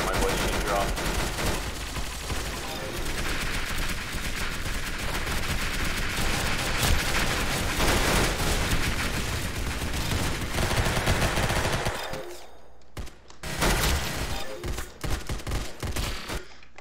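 Rapid gunfire in a shooter video game: dense automatic bursts and loud shots run almost continuously, break off briefly near the end, then resume in sharper separate cracks.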